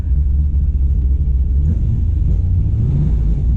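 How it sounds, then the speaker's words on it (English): The LS7 V8 in a swapped Mazda Miata produces a deep, loud, close-up rumble that rises slightly as it is revved, with no voices over it. "First start of the LS Miata."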